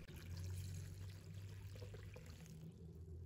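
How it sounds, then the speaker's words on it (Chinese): Clear water pours into a bowl holding cut onion with salt and white vinegar, a steady continuous splash and trickle at close range, fairly quiet, with no talking. "倒入清水"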